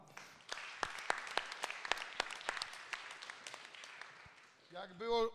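Scattered audience applause at a Polish foundation event, sparse individual claps heard fairly quietly for a few seconds, followed by a voice speaking at the end.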